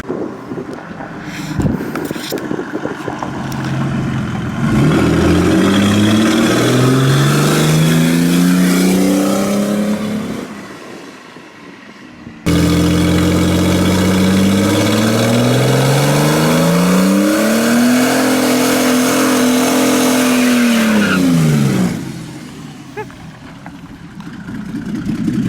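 A car with an OM606 turbo diesel engine revs hard and spins its tires, two long loud pulls rising and falling in pitch with wind buffeting, separated by a brief drop in level.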